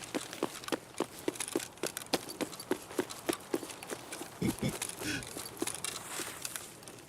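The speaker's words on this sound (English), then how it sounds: "I think I heard footsteps" Footsteps in a video game, a quick regular run of sharp clopping steps close by, followed by a couple of heavier thuds and some quieter rustling.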